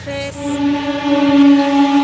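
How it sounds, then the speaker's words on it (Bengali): A passing train gives a loud, steady tonal hum or horn-like drone close by, swelling slightly in the middle of the clip. "ওখান দিয়ে ট্রেন যাচ্ছে"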